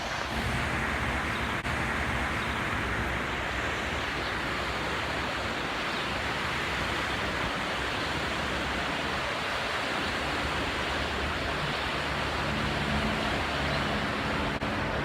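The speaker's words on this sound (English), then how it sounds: "we are going over this cool little river here" A small river in the Smoky Mountains rushes past as a dense, continuous roar of flowing water, steady and loud with no pauses, with a faint low rumble beneath it.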